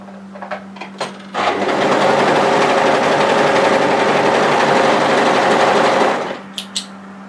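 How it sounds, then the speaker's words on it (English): An overlocker runs along the short edge of a hoodie neckband in one loud, steady burst of about five seconds, framed by brief clicks before and after. "Take your neckband piece and place it right side together and overlock together the short edge."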